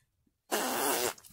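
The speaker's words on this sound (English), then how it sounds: "Did I just fart loud?" A single loud fart bursts out after a moment of near silence, a buzzy, sputtering blast lasting about half a second before it cuts off.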